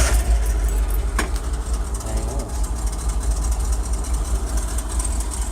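A Ford W150 truck engine idling with a steady low rumble after a brief start, with a light metallic jangle early on.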